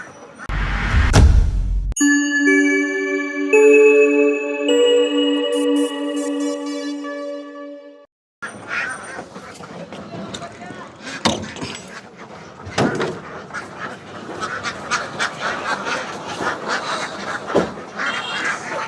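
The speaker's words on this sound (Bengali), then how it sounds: "ঘর থেকে রানিং ডিমের যে হাঁসগুলো, এগুলো একে একে সব তারা বেরিয়ে আসছে" Jinding egg-laying ducks quack repeatedly as they file out of their house one by one, a busy chorus of close, loud calls with thumps and knocks, following a brief sustained musical tone.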